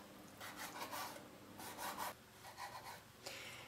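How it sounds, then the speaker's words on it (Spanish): A knife finely chops small pieces of salmon on a cutting board, making soft, rhythmic rasping strokes in quick bursts, close but faint, with no talking. "Con estos trocitos, que tienen muchísimo sabor, los vamos a cortar menuditos y los reservamos."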